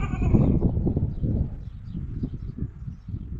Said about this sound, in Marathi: शेळ्या आहेत आपल्या इथं अजून गोठ्यात काही गुरं सोडली नाही.